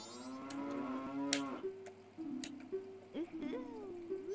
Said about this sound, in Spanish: Y sí, la vaca habla. Es mágica.